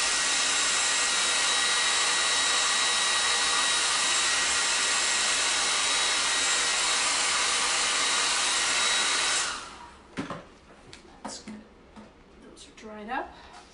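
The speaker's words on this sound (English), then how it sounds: "Just use my hair dryer just because I don't want that to..." A hair dryer blows loud and steady for about nine seconds while drying a lotus flower craft, then cuts off, leaving brief handling sounds and a person speaking.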